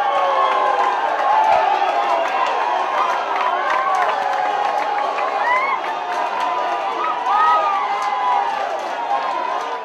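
A football crowd roars and cheers continuously in the stands of the Sebastião César stadium, dense and sustained with whoops and shouts rising over the din throughout.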